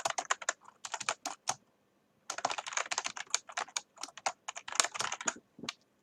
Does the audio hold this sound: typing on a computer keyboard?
yes